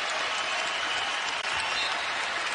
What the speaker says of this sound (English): Big cheer for Spencer right here.